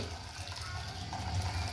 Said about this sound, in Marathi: आपण आता ह्याची इळवणी काढून घेऊया छान आपल्याला ह्याचं असं पाणी सर्व काढून घ्यायचं आहे